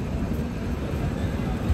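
The 15644 Kamakhya Puri Express pulls out of Cuttack station in rain, a steady low rumble of the moving train heard from on board, with a faint voice in the background.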